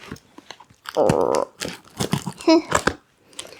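Crinkly crunching and scraping as scissors slice into a taped cardboard box, in short bursts with a sustained tearing rasp near the middle.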